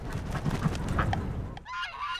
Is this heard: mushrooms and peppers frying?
no